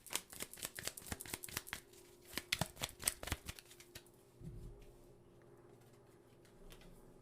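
Tarot cards are shuffled in quick riffling bursts of crisp, close clicks and flutters for a few seconds, then a few softer card taps follow before the sound settles into quiet.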